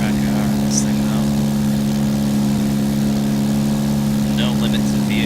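A simulated track car engine in the X-Plane 10 flight simulator holds a steady, mid-pitched droning hum throughout, with a few brief voice sounds over it.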